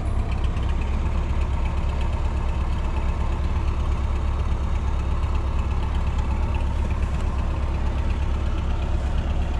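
A tractor clearing snow idles with a steady, low diesel rumble and a faint knocking texture, running continuously and fairly close with no voices.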